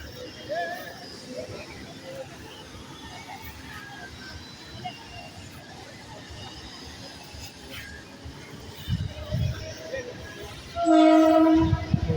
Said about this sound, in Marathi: देखो ट्रेन जा रही है